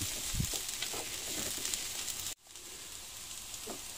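Chanterelle mushrooms cooking with sugar in a pan at a campsite, a dense continuous sizzle with light stirring scrapes that dips abruptly for an instant before resuming more quietly.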